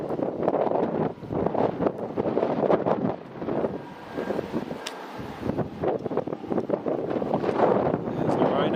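Strong wind buffets the microphone beside an airport runway at Edinburgh on a summer evening, gusting in uneven surges with brief lulls, loud and close throughout.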